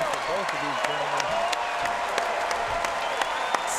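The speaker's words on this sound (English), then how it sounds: "Standing ovation for both of these gentlemen." Standing ovation at a mixed martial arts fight night (FAC 19): a dense, steady wash of crowd applause carries through the whole stretch, with a few scattered cheers and a voice talking underneath.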